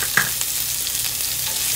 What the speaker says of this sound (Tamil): வெங்காயம் கொஞ்சம் வணங்கட்டுங்க